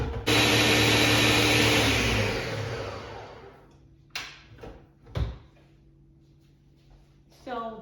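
Blender whirring through bean flour batter for moi moi, a loud steady motor roar that runs for about three seconds and winds down, followed by scattered knocks and handling clatter, with brief talk.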